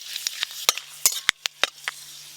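Bay leaf, dried chilli and fenugreek tempering in hot oil while pumpkin is being cooked, heard as sharp crackles and pops over a faint low hum, with a spoon occasionally scraping the pan.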